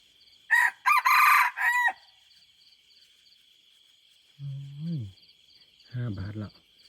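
A rooster crows loudly and close by, followed by two shorter, lower crows, with a steady insect drone running underneath throughout.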